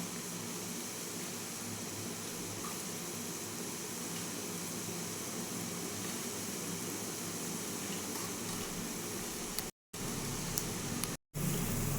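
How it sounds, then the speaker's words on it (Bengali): Lentil fritters (dal bora) frying in hot oil, a dense continuous sizzle and crackle that stays steady and close throughout, with two very brief dropouts near the end. "দেখুন, এগুলো ঠিক এরকমভাবে আমি ভেজে নেব।"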